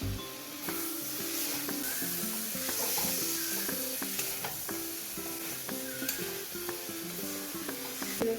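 Shrimp added to a pan of spiced jackfruit curry sizzle and fry steadily, with close clinks and scrapes of a spoon stirring against the pot throughout.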